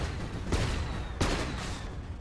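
Gyrocopter's Flak Cannon firing in Dota 2, two sharp bursts about a second apart, each cracking out over a busy low game rumble before fading.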